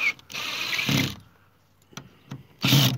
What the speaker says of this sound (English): starting with pulling these screws out right here